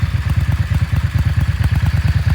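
A Yamaha Dragstar XVS 650 Classic motorcycle engine idles loud and close, with a deep, steady, rapid thumping pulse that does not change pace.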